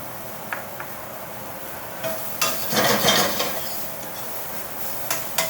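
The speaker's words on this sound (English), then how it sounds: "And then I'm going to add some garlic." Sliced garlic and ginger sizzle in a hot pan for stir-fried shrimp, a steady close frying hiss with a few light clinks and a brief stirring swell midway, no voices.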